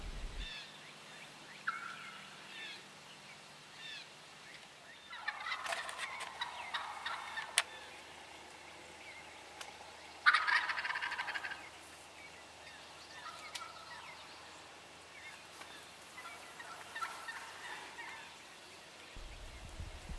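Wild turkey gobbling in an open field during spring turkey season, a few distant gobbles breaking over quiet outdoor ambience, with brief louder bursts around the middle.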